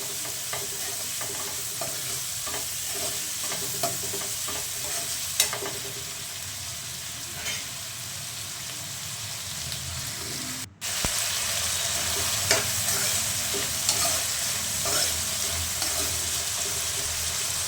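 Cluster beans sizzle steadily in a hot pan while a utensil scrapes and stirs through them, with occasional metallic clinks and a brief cutout midway.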